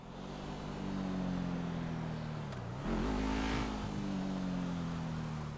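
A car in GTA V pulls away from a junction. Its engine drones steadily, dips briefly at a gear change, then climbs again under acceleration, loud and close with no talking.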